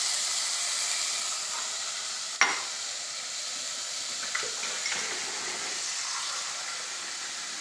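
Water is poured into a pot of cherry tomato sauce for polenta, bringing a steady loud hiss and sizzle with a sharp clank early on, then a few soft stirring knocks.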